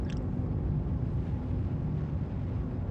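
Engines of the Argo Mole mining ship in the game Star Citizen, a steady, dense low rumble with a soft airy hiss on top, continuous and even for a few seconds with no talking.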